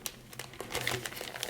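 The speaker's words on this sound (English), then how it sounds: "I'm just gonna quickly snap these up and put them in the bag" Close, quiet crinkling of a plastic bag as snapped wax melts go into it, a run of small crackly rustles and taps with no talking.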